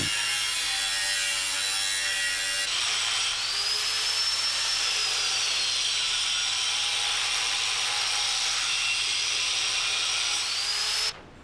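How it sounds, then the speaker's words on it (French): Angle grinder wheel gouging out the root of a MAG butt weld on a steel joint, a steady high-pitched grinding whine running continuously and close for about eleven seconds before stopping abruptly. "Le gougeage s'exécute comme d'habitude. Veillez à la tenue de la meule."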